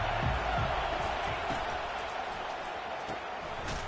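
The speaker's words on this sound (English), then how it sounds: "This crowd bringing an ear-splitting welcome to their visitors." A stadium crowd at a college football game between All Gas and Texas roars in a steady, broad wash of noise, with a commentator talking over it.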